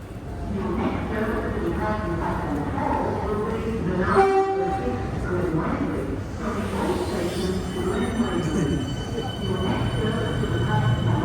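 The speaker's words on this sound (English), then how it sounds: "The train coming the City Loop, the Siemens trains behind me there." Siemens trains run on Melbourne's City Loop on the Sunbury line, a continuous rumble of wheels with metallic squeal and a brief horn-like tone, while a voice talks over it.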